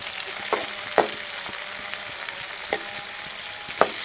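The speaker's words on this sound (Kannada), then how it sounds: "ಹಾಗಲಕಾಯಿ ಎಣ್ಣೆಯಲ್ಲಿ ಚೆನ್ನಾಗಿ ಫ್ರೈ ಆಗಬೇಕು." Bitter gourd fries in oil over medium flame, a steady close crackling sizzle punctuated by a few sharp spatula taps and stirs.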